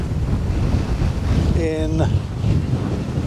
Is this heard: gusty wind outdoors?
yes